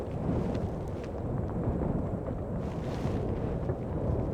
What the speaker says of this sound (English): Ooh, it's windy, windy, windy.